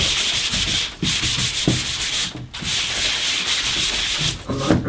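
Light hand sanding rubs over a plain painted panel during finishing work, a steady close-up scratchy swish that continues nearly unbroken with brief pauses between strokes.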